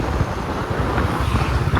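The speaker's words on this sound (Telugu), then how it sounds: "అరే ఇక్కడ రాగానే గాలి ఎక్కువైందేం రా." Strong wind buffets the microphone at night on a road near a reputedly haunted house, a steady loud rumbling roar with no break and no voices.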